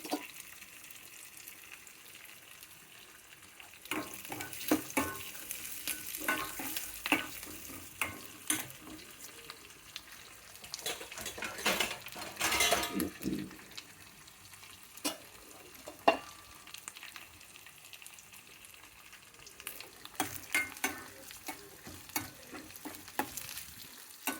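Broad beans (chikkudu kaya) sizzle in a pan while a spoon stirs them with steady scraping, and louder bursts of frying come now and then. The sound is close and continuous, and no one speaks.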